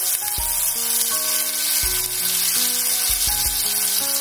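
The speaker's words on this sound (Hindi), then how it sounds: "फिर हम डालेंगे इसमें टिक्का।" Chicken tikka sizzles in a pan for chicken tikka masala, a steady close hiss with several sharp spatula knocks and scrapes spaced through the short clip.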